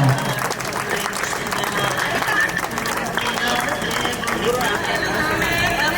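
Sustained applause from a crowd at an SSC batch alumni reunion in Bhanur, a dense, steady patter of clapping that fills the whole stretch at an even loudness, with faint crowd murmur beneath.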